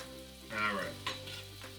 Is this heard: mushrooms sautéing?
yes